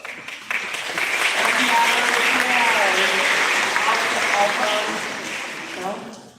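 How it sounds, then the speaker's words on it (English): A crowd gives sustained applause to students called out by name, loud and continuous for several seconds, with voices and cheers mixed into the clapping before it fades. "can you just stand where you are so we can give you a round of applause?"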